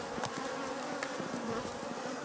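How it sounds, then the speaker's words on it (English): Honey bees buzz densely over a hive frame of capped honey and pollen, a close continuous hum with individual bees darting past, steady and moderately quiet with no talk. "A lot of bees on it."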